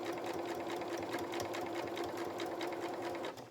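A sewing machine stitches fabric around curves on a small otter toy's body, limbs and tail. It sounds as one close, steady, fast-rattling run that stops briefly at the very end.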